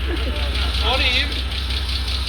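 A Holden VL Commodore engine running at idle just after its first startup, a steady low rumble under close, continuous talking.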